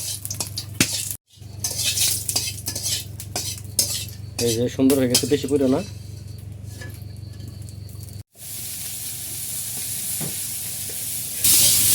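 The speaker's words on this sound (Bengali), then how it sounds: "এখানে আমাদের শুকনো মরিচ ভেজে নেওয়া হচ্ছে" Dried red chillies fry in a hot pan with a loud, continuous sizzle as a metal spatula stirs and scrapes them in repeated clatters, with brief pauses and a voice talking partway through.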